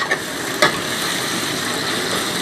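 Chicken fajita strips fry in a pan with a steady, close sizzle, broken by a couple of quick clinks near the start.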